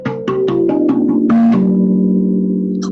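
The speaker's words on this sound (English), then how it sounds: "My item is my tongue drum." Steel and aluminum tongue drum struck in a quick run of about six bright metallic notes, each ringing and overlapping, ending on a longer sustained tone that decays slowly, close and clear with no talking.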